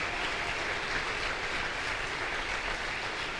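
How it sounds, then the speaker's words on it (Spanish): A church congregation applauds during a sermon. The clapping is a soft, even wash of sound that blends into a continuous rumble and lasts a few seconds, with no one speaking. "Le damos un aplauso."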